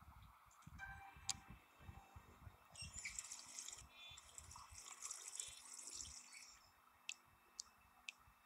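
Water runs from a kitchen tap in The Wolf Among Us, a quiet stream splashing into a sink with scattered clicks and knocks around it, faint and steady for several seconds.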